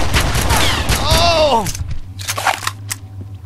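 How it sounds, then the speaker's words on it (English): Gunfire in the first-person shooter Red Faction, a dense burst of shots with descending whistling tones up front, then scattered crackling impacts over a steady low hum. "You're shooting me through the wall."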